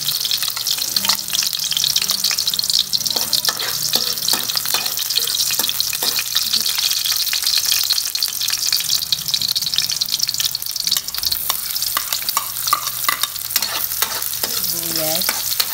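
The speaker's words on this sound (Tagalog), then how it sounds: "Umpisahan na natin igisa ang ating sinantulang may gata. Lahin natin muna ang bawang." Garlic sautéing in a pan as the base for ginataang santol (cotton fruit) with shrimp paste, a loud, dense hiss of sizzling oil with frequent spatula scrapes and stirring clatter close up, no voices.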